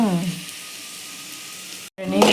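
Chili sizzles in hot oil with a steady, moderate hiss. A voice is heard at the start and again after a brief dropout near the end.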